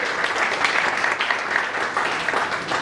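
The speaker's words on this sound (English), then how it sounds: "Round of applause to each one of you in the room." Audience members in an indoor room at a campaign launch event clap together in a dense, continuous burst of applause that lasts a few seconds.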